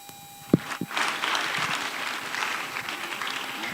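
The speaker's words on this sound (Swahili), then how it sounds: "Wapi makofi yake, tumpigie makofi." Audience clapping at a comedy gathering, starting with a couple of sharp claps and building into steady, moderately faint applause that continues to the end.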